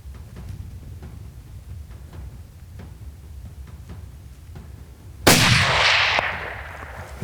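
A single loud rifle shot cracks out during an Idaho elk hunt, breaking a quiet outdoor background and trailing off in a long echoing roll across the terrain.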